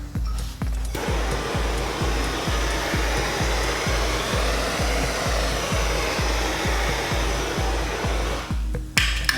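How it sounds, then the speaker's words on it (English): A torch heats vinyl wrap on a car fender flare, giving a steady, close roaring hiss that carries a fast regular low pulsing, starting and stopping abruptly at the edges. "I just like the torch because it's what I'm used to."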